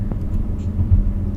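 A Kia Soul drives along with a low, steady engine and road rumble from inside the cabin, subdued and even, with a couple of small bumps and no talking.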